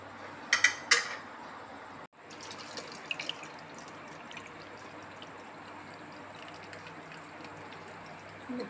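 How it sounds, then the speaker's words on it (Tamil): Water drains from curdled milk paneer in a strainer, made while preparing rasgulla. A few splashy clinks come first, then a quiet, steady trickle runs continuously close by. "இதில் போட்டேன், தண்ணி சொட்டிகிட்ருக்கு பாருங்கள்."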